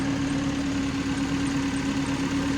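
A car engine idles steadily nearby, no longer at a high idle, a constant low hum with a smooth, even drone and no voices.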